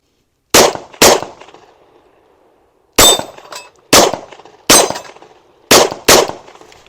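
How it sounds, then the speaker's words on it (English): Concealed carry handguns fired at targets outdoors, seven sharp loud shots in uneven pairs and singles with short ringing decay and pauses between them. "I'm going to shoot about 5 or 6 of them."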